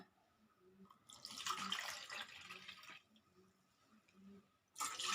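Water is poured into rice flour batter in a kitchen for sweet milk dumplings, a faint splashing gush lasting about two seconds, followed by a brief second pour at the end.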